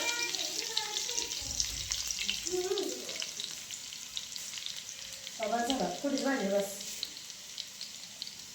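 Mustard seeds, cumin and garlic sizzle in hot oil with a steady crackling hiss, while a voice talks over it in the background through the middle and near the end.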